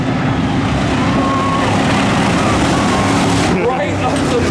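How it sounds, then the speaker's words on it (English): Stacker race cars roar off at the start of a race at the Freedom Factory, a loud, steady engine din blended with crowd noise and an announcer talking over it. "The stacker cars are green at the Freedom Factory"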